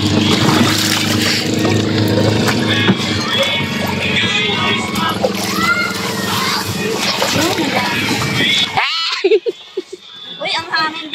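A boat carrying a group of friends crosses open water near Bataan, its steady engine drone and wash filling the background while people chat and laugh over it, before the noise cuts out and a quieter stretch with voices and breeze follows.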